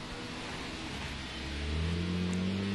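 Mercedes-Benz SLK350 with a 3.5-litre V6 engine accelerating, a smooth rising engine drone that climbs in pitch and grows louder toward the end, heard alone without talking.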